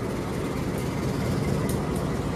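Train hauled by locomotive CC206 1308, a 2013 first-batch CC206 from the Sidotopo depot, departing: a continuous broadband rumble and rolling clatter, close and steady throughout with no talk.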